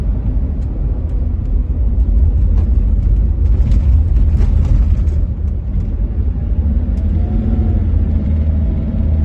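A Land Rover Discovery, a field find just made road legal, drives along a road and takes corners. It gives a loud, continuous engine and road rumble from inside the cabin, steady throughout.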